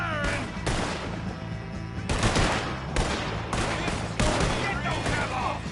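Repeated bursts of gunfire in Red Dead Redemption 2, loud and near, in heavy clustered volleys with short gaps between them, over a steady background din.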